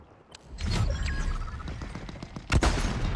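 Dense gunfire in a Fortnite match, with rapid volleys of loud shots crackling close by and a heavier burst near the end.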